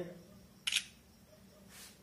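Oppo K1 smartphone front camera shutter firing once, a short crisp click standing out against a quiet room, with a faint second soft sound shortly after.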